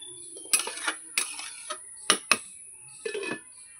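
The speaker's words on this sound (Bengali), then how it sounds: "এবার ঢাকা দিয়ে দেবো।" A lid goes onto a pot of chicken curry with potatoes, heard as several sharp metallic clinks and clatters in quick bursts, close and clear against a quiet background, with no talking.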